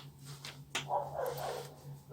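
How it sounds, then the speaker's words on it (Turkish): Faint dogs bark in the background, a few scattered yips and barks spread over a couple of seconds beneath a low steady hum, distant and quiet with no voices. "Evet arkadan da köpek sesleri geliyor."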